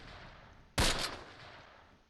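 A single sharp blast from mortar fire in the wartime tactics game Close Combat, a loud crack with a brief rumbling tail fading over quiet background noise.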